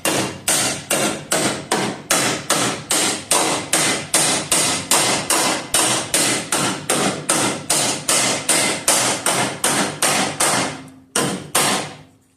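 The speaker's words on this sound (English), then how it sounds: "I'm just going to take my hammer and I'm just going to roll these lips over" A hammer strikes sheet metal lips on a 1968 Charger body shell, rolling them over with about two dozen evenly spaced, sharp ringing blows, close and loud, then a brief pause and a few more hits.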